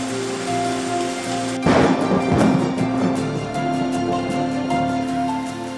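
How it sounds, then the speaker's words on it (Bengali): Rain falls during a monsoon storm in Basirhat, West Bengal: a steady, dense hiss runs throughout, with a loud, rumbling burst of thunder near the middle and a sustained musical tone underneath. "বসিরহাটেও বৃষ্টি"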